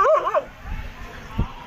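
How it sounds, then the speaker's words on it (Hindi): Two dogs scuffle outdoors, giving a short yelping, whimpering cry and then a low growl and a brief snarl, close by and fairly loud, with a voice faintly present. "देखो यहाँ पे फाइट हो रही है इन दोनों डॉगी की"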